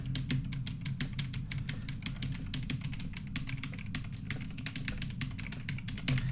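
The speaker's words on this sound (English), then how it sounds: "I'm gonna try typing this in." A password being typed on a computer keyboard in a space station game: a steady run of quick, crisp keystrokes, close and clear, with no voices.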